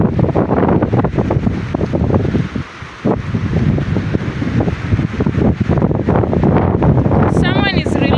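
Strong wind on a beach in Malindi, Kenya buffets the microphone with loud, gusty rumbling and roaring throughout, while a voice speaks intermittently underneath.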